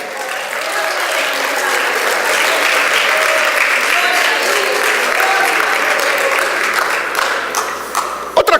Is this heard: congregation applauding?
yes